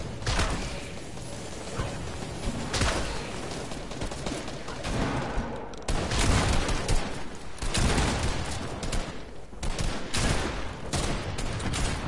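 Rapid bursts of gunfire in Fortnite ring out in dense, loud volleys mixed with mechanical clicks and reload clatter, continuing almost without pause.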